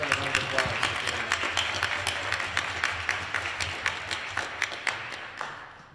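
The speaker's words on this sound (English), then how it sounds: "So let's have a round of applause for Jamie." Applause from an audience at a school district annual meeting, a room of people clapping steadily for several seconds with distinct individual claps standing out, moderately loud and fading slightly at the end.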